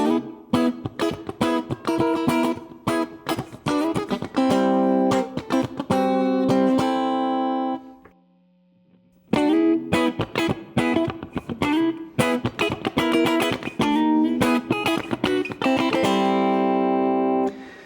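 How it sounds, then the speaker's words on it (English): A Donner DST 152 electric guitar with bridge and middle pickups combined plays rhythmic funky chord strums, loud and punchy, with a brief silent pause midway before the strumming resumes. "Combining the bridge and middle pickup, you get that quacky funk."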